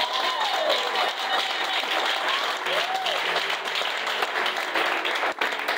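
Church congregation at a French-language worship service clapping and cheering together, a steady wash of applause throughout with a voice speaking or exclaiming over it.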